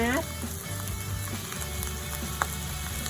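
Mixed vegetables stir-frying in a hot pan, a constant loud sizzle with scattered crackles and one sharp clink, a voice briefly heard at the start.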